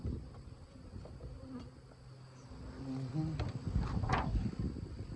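Honey bees buzz around an open beehive with small hive beetles present, a close, continuous droning hum that swells and rises toward the end, with no talk.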